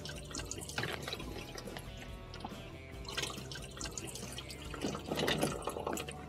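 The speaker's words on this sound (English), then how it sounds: "you're just basically draining out all the water that's in there." Water drains from a commercial or household ice maker pan once the drain cap is off. It makes a continuous trickling, dripping flow that swells in a few louder pulses, with no voices.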